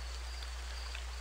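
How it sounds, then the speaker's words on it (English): Light rain ambience from the Shattered Haven level editor game: a steady, soft, even hiss of rainfall over a low constant hum, faint and unchanging throughout. "Let's have light rain."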